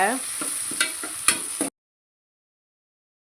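Tomatoes and green chillies sizzle and crackle in a hot pan while a utensil scrapes and taps in short strokes, then everything cuts to silence halfway through.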